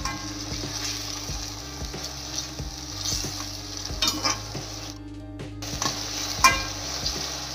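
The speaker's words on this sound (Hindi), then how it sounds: "तो थोड़ा सा चलाएंगे बस हाई फ्लेम पर 2 मिनट हरी मिर्च को" Green chillies fry on high flame in a pan, a constant close sizzle broken by regular spoon-against-pan taps and scrapes as they are stirred, with a brief drop in the hiss midway.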